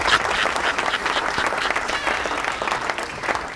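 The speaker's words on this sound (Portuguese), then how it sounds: "Uma forte salva de palmas para ele!" An audience applauds the jackpot winner on a Mozambican TV game show, a full burst of clapping with some crowd noise, lively and fairly loud throughout.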